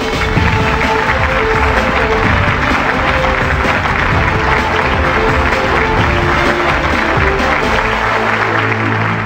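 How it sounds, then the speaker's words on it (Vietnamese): A studio audience on a Vietnamese television game show applauds loudly and continuously, dense clapping with some cheering that holds steady throughout without a break. "Hãy dành một tràng pháo tay nồng nhiệt chúc bạn Hằng may mắn."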